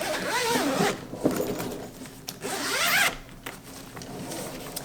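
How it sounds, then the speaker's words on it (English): A zipper on the front pouch of an Away expandable carry-on suitcase is pulled open in two long, close zips, with a quieter pause between them. "We've got a zippered front pouch."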